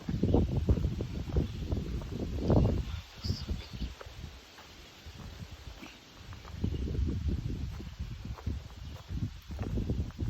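Wind gusting across an open stretch of the Appalachian Trail, buffeting the microphone in loud rumbling waves that swell, ease off, and return.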